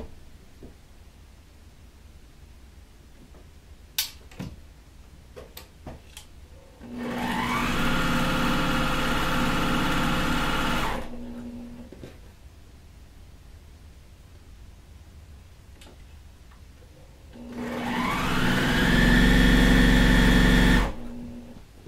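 A sewing machine stitching quilt pieces for a churn dash quilting block, running in two bursts of several seconds each with a steady whirring hum, with quiet handling clicks before the first run and silence between.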